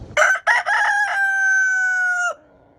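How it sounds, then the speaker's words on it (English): A rooster-shaped teapot crows: two short choppy bursts, then a long sustained tonal call that cuts off, clear and close with no talking. "He might crow or whatever it is a rooster does."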